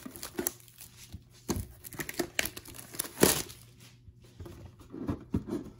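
Opening the packaging of a 2019 first-print Pokémon Charizard GX box: quiet, close crinkling and tearing of plastic and cardboard in scattered bursts, with one louder rip near the middle.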